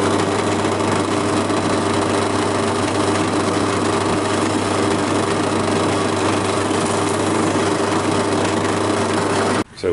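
A power drill with a 4.5 mm bit bores a hole, giving a steady, close, high-pitched motor whine that runs without a break for nearly the whole stretch before a short knock at the very end.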